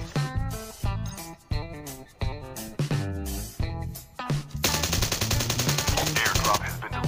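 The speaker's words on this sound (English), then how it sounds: "Again I will remove all the attachment and will fire to check the recoil control." Gunfire from a Call of Duty Mobile gun with no attachments, first in separate short bursts with gaps between them, then a long, dense unbroken stream of fire lasting several seconds.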